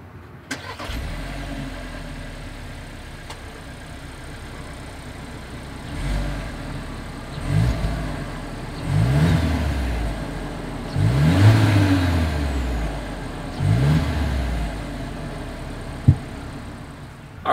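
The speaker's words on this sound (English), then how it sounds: "here is that exhaust clip" A 2022 Volkswagen Taos SUV exhaust rumbles at idle, then several throttle blips rev the engine up and back down in a rhythmic series, close by and fairly loud.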